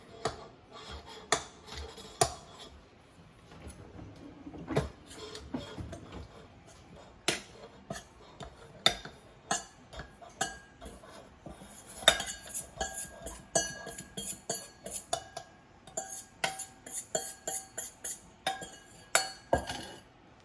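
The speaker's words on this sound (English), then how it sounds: "Now we're gonna add our dry ingredients and our buttermilk into the mixture" A utensil stirs cake batter made with dry ingredients and buttermilk in a bowl, giving repeated irregular clinks and scrapes against the bowl. The knocks come in quick bursts, fairly close but quiet, with no talking.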